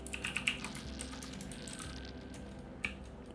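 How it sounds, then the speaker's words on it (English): Keys on a Logitech G610 mechanical keyboard with Cherry MX switches are tapped in a quick cluster of clicks at the start, then a lone click near the end, heard close over a steady low hum. "So I'm gonna test the Cherry MX switch."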